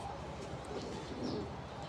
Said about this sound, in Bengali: এখন দেখাবো মাদি কবুতরগুলো